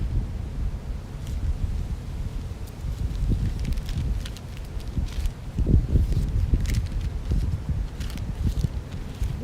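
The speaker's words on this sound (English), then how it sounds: "Wind is out here crushing, man." Strong wind blows outdoors and buffets the microphone, making a steady low roar that swells in gusts, with scattered rustling on top.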